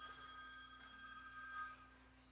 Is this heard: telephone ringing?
yes